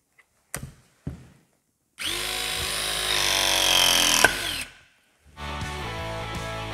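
RIDGID RP241 press tool with a 26 mm jaw crimping multilayer gas pipe: two short clicks, then a loud motor whine that rises over a few seconds and stops, followed by a second run of the motor, close up.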